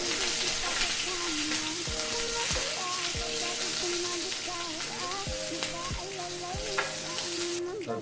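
Ginger sizzling in olive oil in a pan, a steady loud frying hiss throughout with repeated stirring scrapes and a voice speaking over it.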